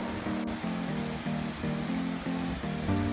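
Water from a small, secluded waterfall rushes in an even, continuous roar, close and moderately loud, with a faint repeating low tonal pattern riding on top.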